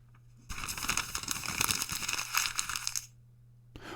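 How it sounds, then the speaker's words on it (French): A sheet of paper crumpled close up, a dense burst of crinkling and crackling lasting about two and a half seconds, starting abruptly after a quiet hum and stopping just as suddenly. "Il s'agit du bruit d'une feuille de papier froissée."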